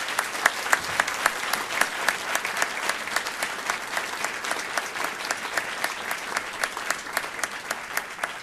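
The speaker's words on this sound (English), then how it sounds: "So a big applause for the ministers." Audience applause for five government ministers at a launch event, many hands clapping in a steady rhythmic beat, sharp repeated claps standing out over a continuous patter, fairly close and sustained.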